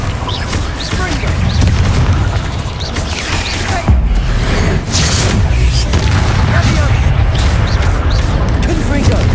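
Confringo blasting spells in the Hogwarts Legacy video game, repeated booming explosions and crackling impacts in a dense, continuous battle mix, with a voice shouting spell names over them.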